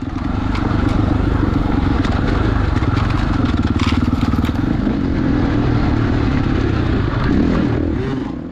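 A dirt bike races a slick, bumpy snowy trail during a hare scramble, its engine loud and close in a continuous rough drone with rapid throttle pulses and scattered clatter from the terrain.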